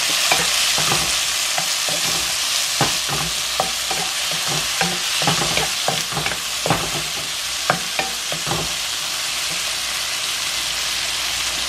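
Two tomatoes frying in a pan, a loud, continuous hiss of hot oil with many quick scraping stirs clattering in an irregular rhythm throughout.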